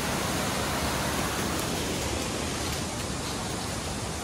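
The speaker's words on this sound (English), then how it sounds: "there's a waterfall there" A waterfall near Tranan village pours in a dense, steady roar of rushing water, loud and unbroken throughout.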